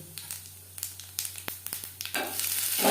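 Whole cumin seeds and dried red chillies crackling in hot mustard oil, a run of quick sharp pops that swells into a dense, loud sizzle near the end.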